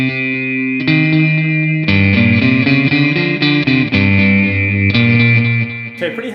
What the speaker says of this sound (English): Then I'm going to throw on some delay on top of that.